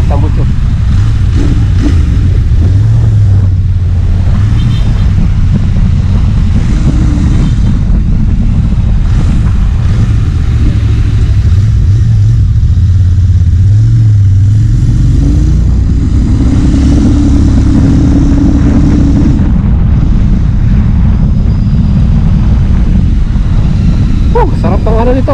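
A Royal Enfield Interceptor 650 motorcycle rumbles with a steady, loud low exhaust drone throughout, the engine note rising and falling slightly while a voice talks over it.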